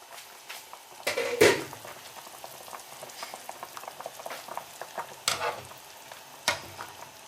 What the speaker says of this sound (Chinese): 鸡肉煮熟了，咱再捞出来。